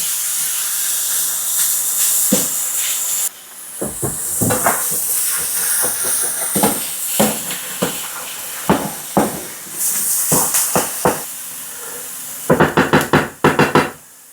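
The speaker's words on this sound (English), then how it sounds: "we're going to toss in about half a cup of our peppers and onions. Give those a mix." Peppers and onions tossed into ground turkey sizzling in a pan, a loud steady hiss of frying, interrupted by a burst of scraping and stirring knocks from the spatula, then a flurry of quick taps at the end.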